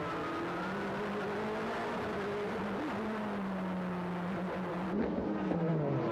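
GT race cars from the 1999 JGTC series, Raybrig and Takata Dome Honda NSXs battling Toyota Supras, drone past with steady sustained engine tones that shift in pitch as they jostle, with a brief louder swell near the end.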